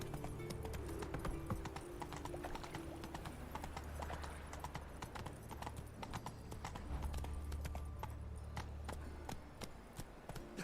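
Horse hooves clip-clopping in The Witcher 3 video game, a steady rhythmic trot that runs the whole time over a low, continuous ambient rumble.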